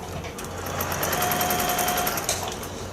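A sewing machine stitching continuously through a quilt block, its rapid even whir and needle patter running steadily and close throughout, with no talk.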